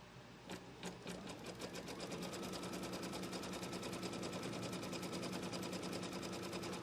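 A machine embroidery sewing machine tacking down a quilt piece: rapid needle stitching starts with a few slower stitches, then runs in a steady, even mechanical rhythm throughout, moderately faint and with no talking.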